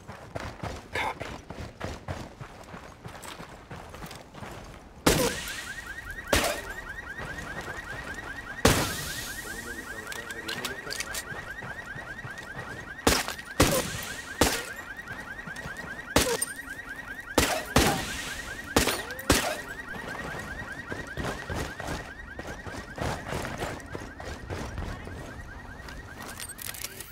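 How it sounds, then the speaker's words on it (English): A car alarm in the Ghost Recon Wildlands video game sounds a steady repeating electronic tone for many seconds, broken by sharp loud bangs that could be gunfire or explosions, over constant background game noise. "That whip's got an alarm"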